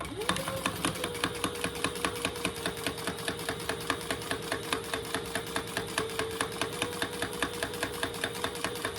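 Sewing machine top stitching a fabric bag, running in a fast, steady even rhythm of needle strokes from start to finish, fairly quiet and unbroken.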